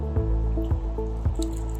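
Clean filtered water drips from a Sydney 905 filter fitted to the bottom of a bucket, a few distinct drops falling at a slow, irregular pace over a steady low background.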